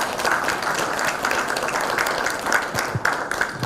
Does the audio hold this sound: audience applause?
yes